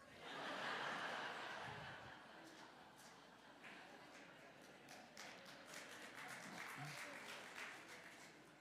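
An audience at a church fundraiser bursts into clapping with some chuckles and laughter, loudest at the start and then thinning into scattered claps and murmurs, with a voice heard under it.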